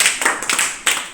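Children clapping in a classroom, a few quick bursts of close handclaps in uneven rhythm, brief and loud with no talk.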